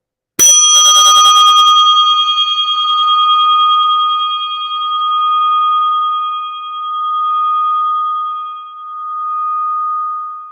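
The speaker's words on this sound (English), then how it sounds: "I do that by ringing this little bell" A small bell is struck once to open a moment of stillness, a bright clear ring that hangs on, slowly fading with gentle pulsing waves over about ten seconds, alone in silence.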